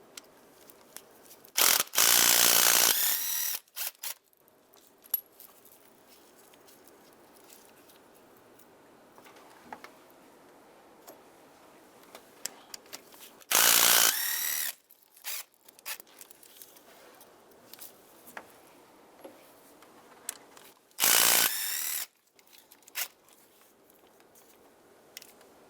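A hand ratchet cranks out the 5/16 lower intake bolts on a 2007-2015 Mazda CX-9 engine in three loud, fast bursts of clicking. Quiet pauses with faint tool handling separate the bursts.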